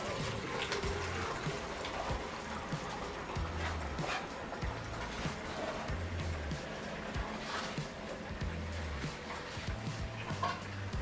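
Homemade liquid organic fertilizer draining from the tap at the bottom of a fermentation bucket, a steady close trickle and splash running continuously without talk.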